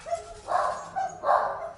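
A dog barks twice in quick succession, mid-distance and moderately loud, with a short pause between the barks.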